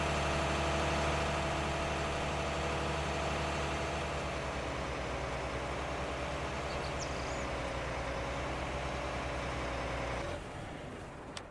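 A tractor engine in Farming Simulator 19 runs at a steady, loud idle with a constant low drone and vibration for most of the time, then drops off abruptly near the end.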